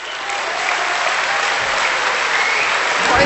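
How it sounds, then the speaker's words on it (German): A large political Ash Wednesday audience in the Stadthalle town hall in Deggendorf bursts into loud, dense applause that holds steady and swells slightly toward the end, with no voice breaking through. "Dankeschön, Applaus!"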